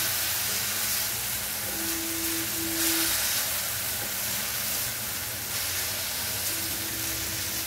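Grated potato sautéing in a pan over a low gas flame gives a steady, even sizzle and hiss throughout, with a faint tonal hum in the background and no talking.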